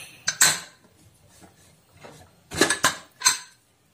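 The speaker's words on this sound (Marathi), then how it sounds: "आपण कुकर उघडून घेऊ" A cooled pressure cooker holding vegetable pulao is opened, with sharp metallic clinks and clatters of the lid and pot coming in two clusters, close and fairly loud, separated by a quieter stretch of faint handling.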